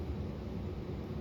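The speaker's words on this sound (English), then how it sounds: "can hear my central air system running in the background" A central air conditioning system runs steadily in a home basement, giving a low, constant broadband hum and whoosh with no variation and no voices.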